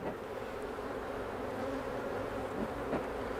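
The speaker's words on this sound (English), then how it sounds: "all these bees in here" Honeybees buzzing inside and around a hive during a fall inspection on an overcast evening, a continuous, fairly faint drone of many wings with small fluctuations, no speech.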